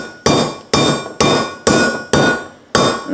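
Six sharp hammer blows strike a powder-coated metal panel in a durability smash test, evenly spaced about half a second apart, each a loud ringing impact that decays before the next.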